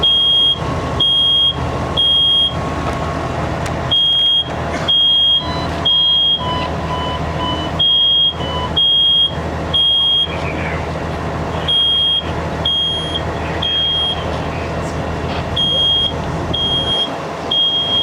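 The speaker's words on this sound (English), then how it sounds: "Smoke alarm's off at 28 seconds." A loud smoke alarm beeps in a steady repeating pattern of shrill tones, with a fire crackling and rumbling underneath, during a fire sprinkler demonstration.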